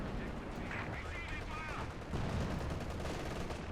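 Gunfire from an AVRE engineering tank aimed at infantry during a 4v4 Company of Heroes 2 battle on the Port of Hamburg map, a dense continuous clatter of shots and blasts with a heavier burst midway, with a voice talking underneath.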